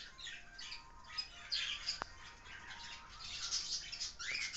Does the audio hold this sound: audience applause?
no